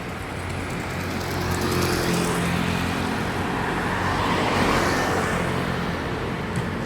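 Cars and motor traffic roll past on a busy street in Tainan, a steady loud wash of engine and tyre noise that swells and fades as vehicles go by close to the listener.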